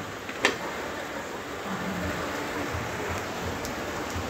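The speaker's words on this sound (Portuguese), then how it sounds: "eu tô vindo na chuva" Rain falls steadily as a dense, even hiss while someone travels through it, with a sharp knock near the start.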